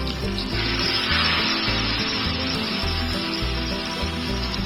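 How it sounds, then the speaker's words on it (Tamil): Fish pieces from the freezer frying in two spoons of oil on a large tawa for a garlic fish fry, a loud, continuous crackling sizzle with a low bubbling undertone. "ஒரு பெரிய தவாவில் 2 ஸ்பூன் எண்ணெயை விட்டு நம்ம ஃப்ரீசர்லேருந்து எடுத்து வச்ச மீன் துண்டுகளை அதில் போட்டுக்கலாம்."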